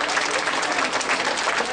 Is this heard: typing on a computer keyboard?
no